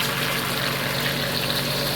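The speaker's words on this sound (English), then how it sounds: "And add my water to it." Water pours steadily into a pot, a continuous splashing gush lasting a couple of seconds with no voices.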